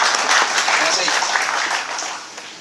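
A church congregation claps together in a dense, steady wash of applause that fades somewhat toward the end, with voices mixed in.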